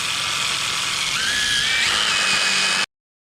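A power tool scours rust off the front brake hub of a Toyota Camry, giving a steady, loud, high-pitched grinding whine for about three seconds before cutting off abruptly.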